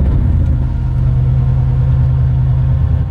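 A supercharged Coyote-swapped four-wheel-drive Ford truck engine runs with a loud, steady low rumble close by, its idle drone filling the whole stretch with no voices.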